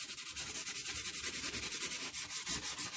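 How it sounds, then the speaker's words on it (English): A sanding tool rubs back and forth across an embossed paper card in quick, rhythmic scratchy strokes, close up and steady. "I just have a sanding tool here and I'm just going to sand it"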